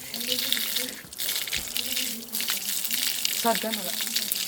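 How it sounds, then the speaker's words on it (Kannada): Running water splashes as hands and feet are washed near a hilltop temple, a steady close gush and patter with people talking over it. "ಕೈ ಕಾಲೆಲ್ಲ ತೊಳ್ಕೊಂಡು"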